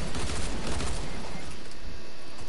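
Rapid gunfire from a Fortnite fight with SMGs, a dense, loud, continuous burst of shots that fades somewhat toward the end.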